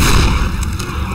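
Grenade going off in Left 4 Dead 2, a loud, close, dense blast with rumbling low-end noise filling the whole brief moment.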